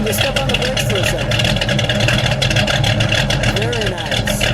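A 1979 AMC Spirit AMX with a 360 V8, dual exhaust and Flowmaster mufflers idles with a deep, steady, throbbing rumble close by, and muffled voices sound over it.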